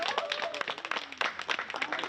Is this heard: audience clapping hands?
yes